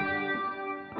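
A sustained, harmonically rich guitar tone washed in shimmering, modulated reverb from a Digitech Polara reverb pedal, steady and close, with a slight swell near the end.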